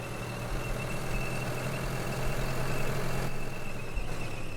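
The engine of a Ford 78-horsepower tractor mod in Farming Simulator 2013 drones at a steady idle, a low continuous hum with a faint whine above it and no speech.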